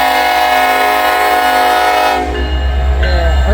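A train pulled by two diesel locomotives, including an SD78, passing close and loud with a sustained blaring horn over heavy rumbling rail noise, the horn's pitch shifting as the train goes by.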